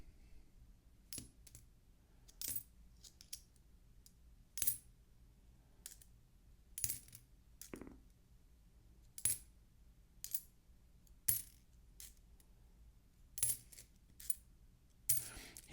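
Ten-cent coins are dropped and sorted one at a time, giving sharp metallic clinks at an irregular pace, roughly one every second, close and distinct in an otherwise quiet room.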